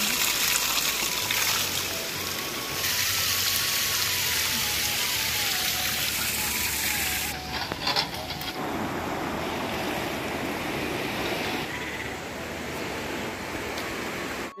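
Cold water pours steadily from a village spring spout in the Pahadi hills, a continuous close splashing rush that shifts slightly partway through, with faint talk underneath.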